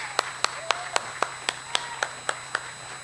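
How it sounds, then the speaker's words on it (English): Sparse, evenly spaced claps ring out in a room during a round of applause for Sherry D. Wilson, about a dozen sharp single hits at a steady rhythm against a low background hum. "One more round of applause."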